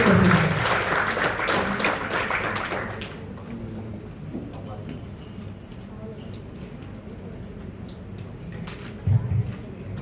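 A burst of audience applause for the moderator at a private-university tax and financial-reporting workshop fills the first three seconds, loud and dense, then fades to a quiet, murmuring room with faint rustles.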